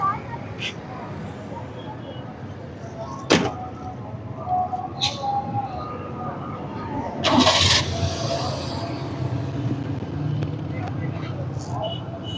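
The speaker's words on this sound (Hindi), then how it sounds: "ये एक मिनट स्टार्ट करें गाड़ी बेटे, बस गाड़ी स्टार्ट करें।" A car engine cranks and catches during a roadside traffic police check, a short starter burst followed by the motor settling into a steady idle, with people talking nearby throughout.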